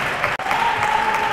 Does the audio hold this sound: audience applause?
yes